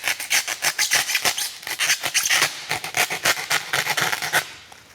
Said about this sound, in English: Now I'm just going to use a sawing motion to cut this corner off.